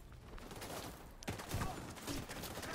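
Rapid bursts of gunfire from a shooter in the video game The Division 2, sharp cracks piling into a dense volley midway, with a muffled, compressed quality.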